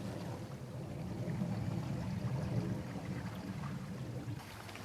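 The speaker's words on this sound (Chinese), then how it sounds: "后面好像有一条溪的感觉。 但是可以收一下水的声音。" Water from a stream or pipe outlet in the Taipei outdoors rushes steadily and fairly loudly, a broad continuous wash that holds even throughout with no voices.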